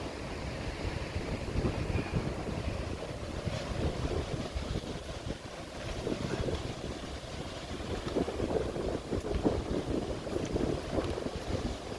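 Wind blows steadily at Jacksonville Beach, Florida, producing continuous low, rumbling buffeting with a faint wash of surf beneath.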